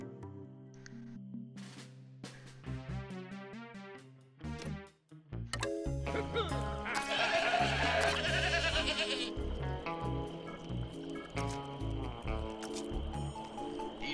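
Goat bleats from the video game Plants vs. Zombies Garden Warfare 2, sounding over busy game music and effects, with a loud noisy burst in the middle of the stretch.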